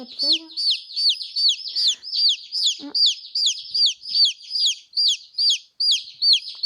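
Young yellow broiler chicks peep loudly and continuously in a rapid, repeating series of high shrill calls, close by, with brief handling noises underneath.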